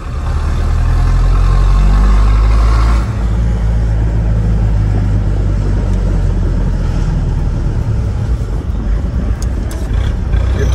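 Chevrolet D20 pickup with a straight exhaust, open pump and 33x12.5 tyres accelerating hard in third gear: a loud, close, continuous engine roar that surges at first, then holds a rough, rumbling drone.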